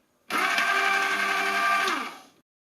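An AMZCHEF HH-916F wide-diameter slow masticating juicer switches on and hums steadily for about two seconds, a close, even motor drone that tapers off as it stops, with no talking over it.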